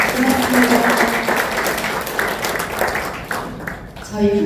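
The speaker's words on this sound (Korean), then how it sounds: "우리 서로 서로에게 박수 한번 부탁드립니다." An audience applauds at the first-anniversary ceremony and general meeting of an international culture and arts association, a broad crowd clap mixed with background talk and music, fading toward the end as a voice returns.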